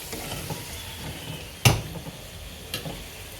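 Wontons frying in hot oil give a steady close sizzle, broken by one sharp loud clatter midway and a fainter knock shortly after.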